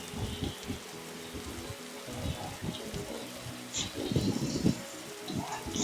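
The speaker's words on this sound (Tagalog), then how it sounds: "Rain." Rain falls in a steady, uneven patter of drops hitting surfaces nearby, rising and falling softly with no clear voices over it.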